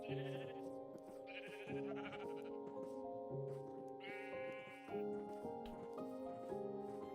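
Blocky Minecraft sheep bleat repeatedly in a steady stream of wavering cries, joined by other farm-animal game sounds, clear and fairly loud with no talking.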